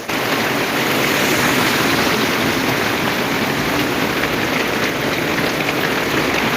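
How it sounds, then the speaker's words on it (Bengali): Heavy rain pours onto a flooded city street, a dense, loud, unbroken hiss of water with no pauses and no voices. "এরকমভাবে বৃষ্টি পড়তে থাকলে আজকে সকালের মধ্যে এখানে বন্যা হওয়া থেকে কেউ আটকাতে পারবে না"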